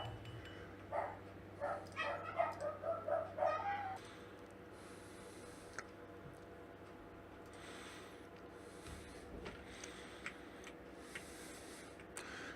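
A dog in a Yume Nikki fangame gives a short run of small, evenly spaced barks early on, fairly faint over a quiet ambient background.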